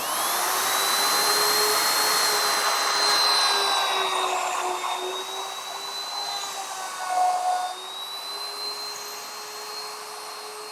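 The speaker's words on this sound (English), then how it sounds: "now I'm going to router out my faceplate." Router fitted with a 12mm bit cutting a recess for a lock faceplate into a door edge, using a door jig: a loud, steady high-pitched whine that runs continuously, with load changes as the cut progresses.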